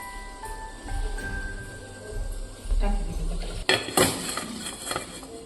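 A metal lid clanks down onto a dhokla steamer pot in a home kitchen. Soft kitchen handling noises come first, then a sharp clatter as the lid settles near the end.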